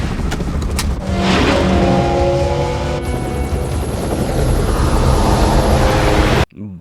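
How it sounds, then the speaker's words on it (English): A helicopter in Terminator 2: Judgment Day roars loudly and continuously, flying low, rotor thumping close overhead with a whining turbine, then cuts off abruptly at the end. "Boy, is he able to fly low with the helicopter."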